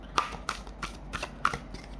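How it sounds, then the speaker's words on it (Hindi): Tarot cards are shuffled by hand, giving five or six soft, close riffling slaps at a loose, uneven rhythm with no one talking. "दोबारा से शफल करेंगे।"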